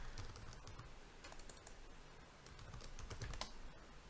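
Computer keyboard keys tapped in quick, uneven bursts while a command is entered in a Linux terminal, close and fairly quiet, with no one speaking.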